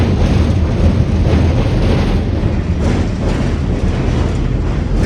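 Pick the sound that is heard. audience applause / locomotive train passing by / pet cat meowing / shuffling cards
locomotive train passing by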